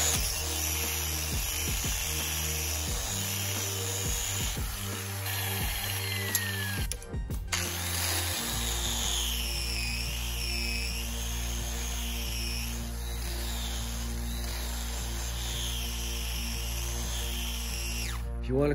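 A polishing wheel buffs aluminum with a steady, close motor whine and a faint grinding contact. The tone shifts midway as pressure on the workpiece changes.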